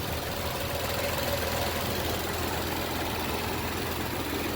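A 2019 Audi S5 Sportback's turbocharged direct-injection V6 idles steadily, giving a constant, even mechanical hum and whir heard up close, with no talking.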